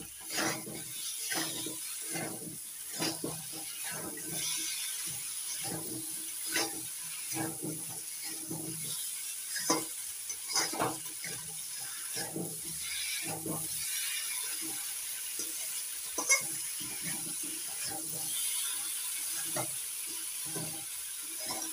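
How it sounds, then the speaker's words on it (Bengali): Wild yam stir-fried in a pan with ground cumin-coriander paste: a soft steady sizzle under repeated scraping strokes of a spatula in an uneven rhythm, fairly faint and close. "এবার মেটে আলুগুলো মশলার সঙ্গে ভালো করে কষিয়ে নেব"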